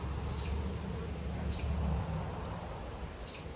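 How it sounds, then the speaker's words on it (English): Honey bees buzz in a dense, continuous drone around an open hive while a nucleus colony is installed into ten-frame equipment, close and steady with individual bees flying past the microphone. "I have a bee crawling in my legs."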